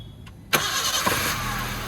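A Maruti Ritz car engine cranks and catches after a brief faint click, then settles into a steady, fairly loud idle, close by and with no voices over it.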